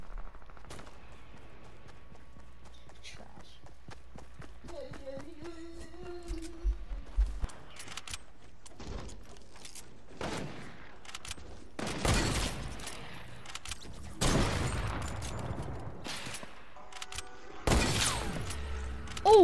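Gunfire in the video game Fortnite, bursts of rapid shots and scattered single cracks rattling out over several seconds, loud and close, mixed with other game effects and no talk.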